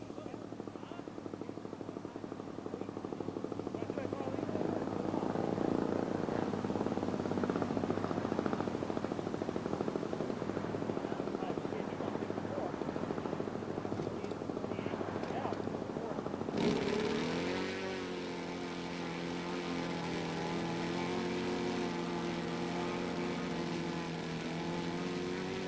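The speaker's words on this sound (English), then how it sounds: "He has powered it with a Quadra 35cc engine." A Sig Morrissey Bravo model floatplane with a Quadra 35cc engine runs on lake water. The engine gives a loud, continuous buzzing drone that shifts to a steadier, lower tone partway through.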